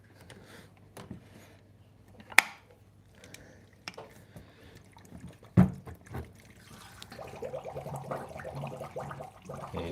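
Water trickles and pours as a fish tank is topped up during maintenance, a steady low liquid wash that swells toward the end, broken by a couple of sharp knocks and clunks from handling the pipes.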